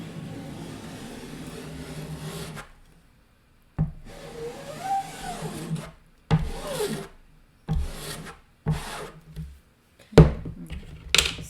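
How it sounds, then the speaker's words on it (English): A large squeegee is pressed and dragged over a chalk transfer, giving a long scraping rub followed by several short, separate rubbing strokes with small taps between them. "I have a large squeegee I'm going to use to bring it all down."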